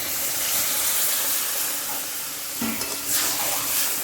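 Coconut milk hits a pan of frying taro curry, a broad hiss and sizzle that briefly surges and bubbles partway through, then settles back into a steady simmering crackle.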